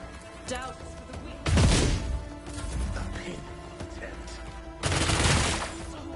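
Gunfire in the Warhammer 40k Rogue Trader video game arrives as two loud bursts a few seconds apart over a steady background hum of game sound.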